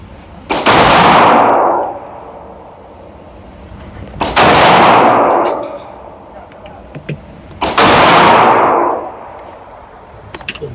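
Three loud, close pistol shots from a Great Lakes Synergy handgun with feeding issues, fired on a fresh magazine, ring out a few seconds apart, each a sharp crack with a long echoing decay.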